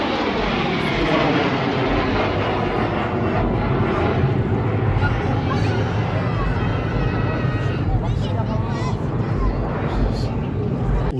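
A SoloTürk aerobatic jet flies at an air show, a loud, continuous roaring jet sound that swells and shifts throughout, with spectator babble underneath.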